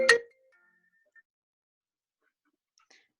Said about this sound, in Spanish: ¿a alguien le está sonando el celular?